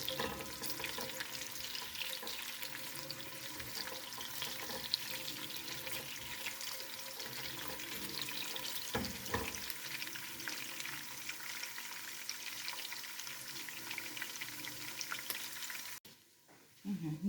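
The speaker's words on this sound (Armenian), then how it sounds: "Յուղնի սոխը արդեն գազօջախին եմ դրել։" Onion frying in oil in a pan on a gas stove gives a steady, close, broadband sizzle that runs without a break and drops out briefly near the end.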